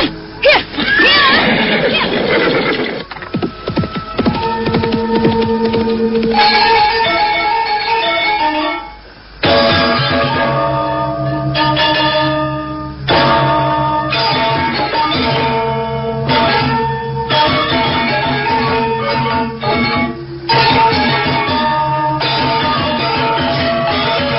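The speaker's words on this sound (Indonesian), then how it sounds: "Sakawuni terus berkuda semakin jauh meninggalkan kaki Bukit Panampihan" A horse in an audio drama whinnies and neighs in loud, repeated calls, with hoofbeats and music-like tones woven through the sound effects.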